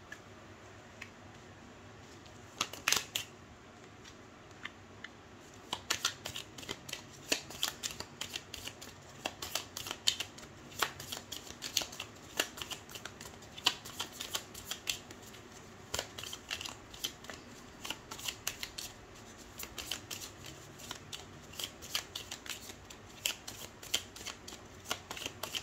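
Playing cards are shuffled by hand before three cards are drawn, giving soft, quick riffling and tapping that comes in irregular bursts across a quiet room, with no voices.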